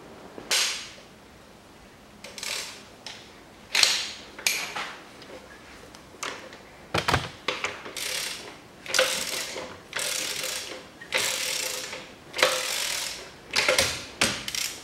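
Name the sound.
turning the crankshaft of a Peugeot 407 1.8 engine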